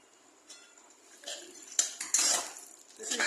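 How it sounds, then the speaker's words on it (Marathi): Spoon scraping and stirring a date and dry fruit mixture being roasted in a metal pan, irregular clinks and scrapes growing louder and busier over a few seconds, close up with no talking. "फक्त त्याच्यामधलं मॉइश्चर कमी होतपर्यंत आपल्याला हे परतवायची आहे"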